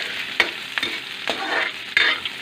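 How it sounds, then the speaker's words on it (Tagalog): Tomato, onion and garlic sauté in a hot pan, giving a steady crackling sizzle broken by a few sharp scraping stirs, close and moderately loud with no talking. "Po, ginigisa na po."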